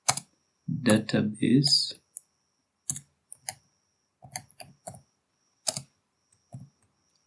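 Someone types MySQL commands on a computer keyboard: sparse, crisp key clicks and taps in short bursts, close and fairly quiet, following a stretch of talking.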